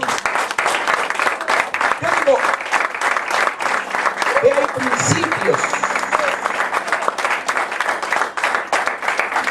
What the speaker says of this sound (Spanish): Saluda a la gloria de Dios con un aplauso.